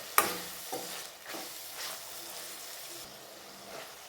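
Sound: chicken sukka frying in oil

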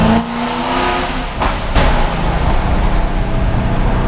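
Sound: car accelerating hard in a street race

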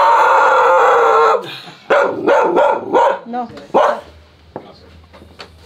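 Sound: dogs barking inside a house

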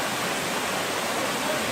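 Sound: waterfall

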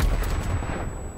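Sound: Semtex grenade in Call of Duty: Black Ops Cold War video game

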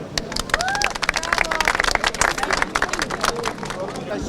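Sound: applause from street bystanders

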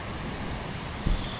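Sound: rain from a storm outside

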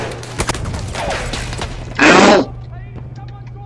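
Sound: gunfire in the video game Battlefield 1

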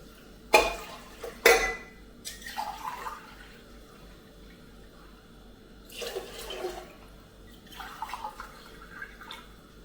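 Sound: water poured into rice for khichdi

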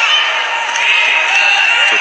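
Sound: crowd of Italian fans cheering at a wrestling final

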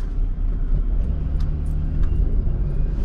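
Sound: 1997 Firebird car driving, shifting gears

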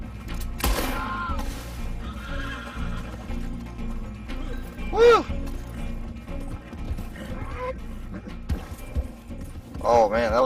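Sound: horse hooves clip-clopping in Red Dead video game

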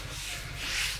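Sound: sanding with 80-grit sandpaper

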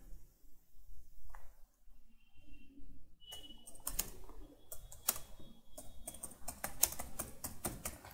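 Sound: typing on a computer keyboard

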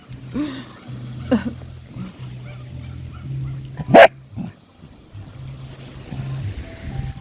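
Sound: dog barking while digging

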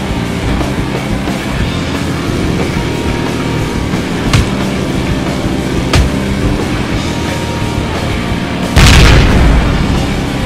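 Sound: explosion sound from the video game Ride to Hell

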